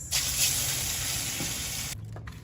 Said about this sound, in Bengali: ভাজার জন্য দিয়ে দিচ্ছি মাছ।